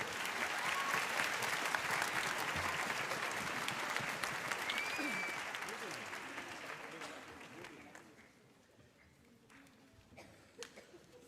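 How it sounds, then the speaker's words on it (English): An orchestra-festival audience applauds the director with sustained dense clapping that fills the hall for about eight seconds, then thins to scattered claps and quiet crowd murmur. "A big round of applause for him."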